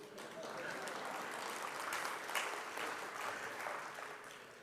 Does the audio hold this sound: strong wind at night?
no